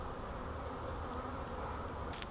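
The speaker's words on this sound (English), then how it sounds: "There are several bees on the front fanning and spreading the colony scent" Honey bees from a newly installed swarm buzz at the front of the hive while fanning and spreading colony scent, a steady close droning hum with no break and no voices.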